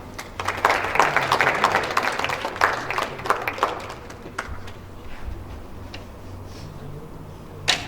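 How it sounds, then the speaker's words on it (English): Audience applause for a presenter at a program launch event in Sri Lanka, a burst of scattered clapping that swells early, then thins into sparse individual claps fading toward the end. "So let's give a big round of applause to Sammani."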